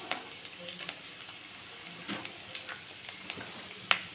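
Chana dal, urad dal and peanuts fry in hot oil, giving a steady close sizzle with crackles and pops and a sharp spatter near the end, with no talking.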